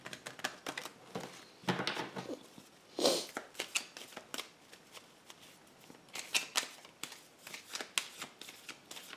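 Tarot cards are shuffled close up in quick papery riffles and flicks, coming in uneven bursts with short pauses between them.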